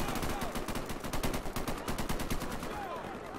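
Soldiers fire guns at a Terminator in a Garry's Mod city battle, a dense rapid burst of automatic gunfire with bullets ricocheting, sustained and loud throughout.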